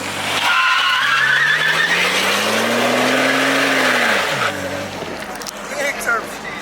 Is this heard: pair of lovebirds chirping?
no